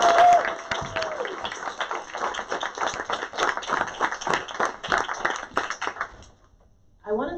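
An audience at an early-learning press conference applauds kindergarten students, giving a round of dense, mixed clapping from a room full of people that fades out over about six seconds before a voice resumes.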